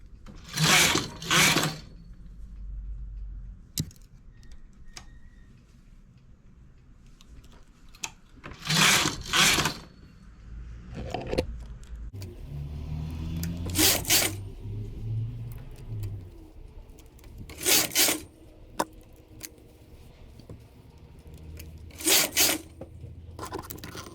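A knitting machine works an intarsia child's vest, its carriage sweeping across in repeated loud rasping passes separated by quieter stretches of handling.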